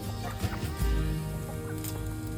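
Backyard chickens clucking softly nearby over a steady background hum, with a few short low calls.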